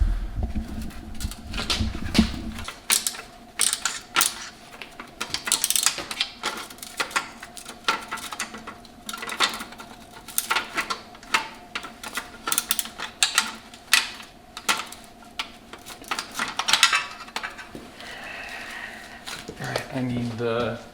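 Ratchet socket wrench working on a Porsche 911 exhaust, with long runs of close, rapid clicking as the bolt is turned, a brief low rumble at the start and end.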